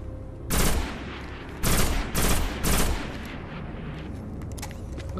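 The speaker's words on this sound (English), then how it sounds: "Did we have that new pulsy rifle type gun? The PSI Umbra. That's a pulse rifle." The PSI Umbra pulse rifle fires in Destiny on PS4 in four loud, close bursts of rapid shots, each a short crackling volley separated by brief pauses over steady game ambience.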